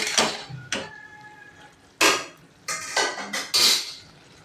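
Bottle gourd curry being stirred in a cooking pan: a utensil scrapes and clinks against the metal in several short, close bursts with quiet gaps between them, and no voices.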